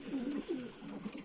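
Pigeons cooing in a loft, two or three low rolling coos in quick succession, close and clear with no talk.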